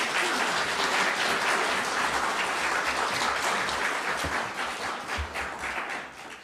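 Warm applause from a church congregation greeting a pastor coming up to the stage, steady dense clapping that stays loud and fills the room, easing slightly toward the end.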